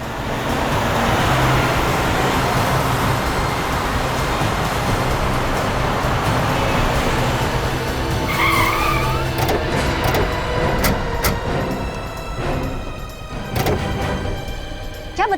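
A car drives along a road and slows to a stop, its engine and tire noise a steady rumble that builds, then a brief high squeal and scattered knocks as it halts.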